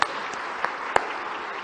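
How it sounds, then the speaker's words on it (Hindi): Applause from an audience at a live public event with the chief minister in Bhopal, a short burst of clapping with a few sharper individual claps standing out. "ताली बजाओ।"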